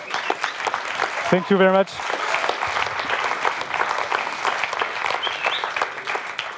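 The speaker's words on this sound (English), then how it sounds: "And you can applaud" An audience at a startup award closing ceremony applauds in a steady, dense wash of clapping, with a brief spoken voice near the start.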